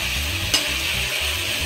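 Garlic, ginger and green chili paste sautéing in a pan for Bengali chicken kosha, giving a steady, close sizzle with stirring scrapes and one brief sharp clink, no voices.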